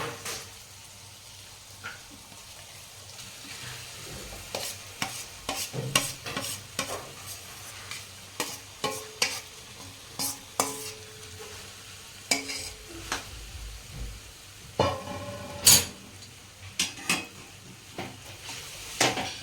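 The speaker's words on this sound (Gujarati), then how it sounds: "હવે આપણે બટાકા મિક્સ કરી દઈએ અંદર" Boiled potatoes are stirred into a roasted spice masala in a pan for dabeli, with soft frying underneath and repeated sharp clinks and scrapes of a spoon against the pan at an uneven rhythm.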